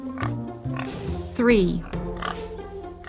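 Pig oinks in a children's counting song about animal sounds, a grunting snort in the middle set against cheerful music, with a voice counting aloud.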